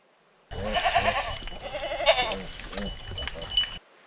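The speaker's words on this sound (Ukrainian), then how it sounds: "Коза каже дякую." A goat bleats in a few wavering cries close up, loud and clear, followed by a continuing run of farm-animal sounds with no talk over them.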